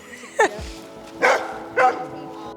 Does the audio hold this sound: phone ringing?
no